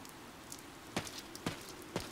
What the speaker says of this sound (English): A flag of blue is flapping in the rain.